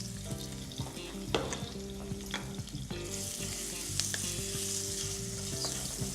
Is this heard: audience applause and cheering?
no